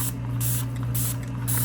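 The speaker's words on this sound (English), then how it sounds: "I'm just going to spray some of these with alcohol since they're so small." Alcohol sprayed onto small resin molds in steady hissing bursts, close and loud, several quick pumps of the sprayer with no talk.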